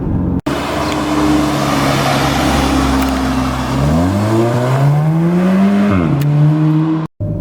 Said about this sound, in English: But this car has got a really good growl to it.